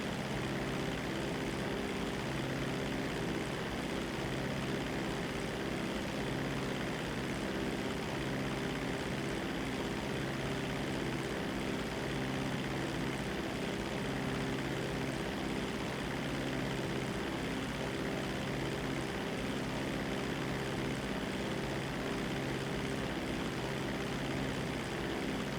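A propeller seaplane engine in a video game drones steadily and evenly, loud and close, with no talk over it.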